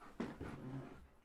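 Apollo, a pet dog, whimpers in a short, faint, high-pitched whine close by indoors, with a brief sharp onset trailing into a thin wavering cry.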